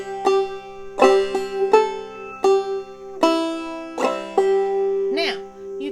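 Clawhammer banjo playing the tune "Snowdrop": a steady run of bright plucked notes with ringing strings, a few hammer-on accents and a sliding note near the end, close and clear with no talk.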